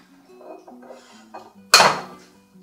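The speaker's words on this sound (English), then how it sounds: "you need to add the eggs one at a time" An egg being added to a mixing bowl, a single sharp crack and clatter against the bowl after a stretch of quiet voice.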